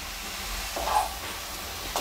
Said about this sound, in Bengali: সমস্ত উপকরণগুলো নেড়েচেড়ে ভালো করে মিশিয়ে নেব লাউয়ের সঙ্গে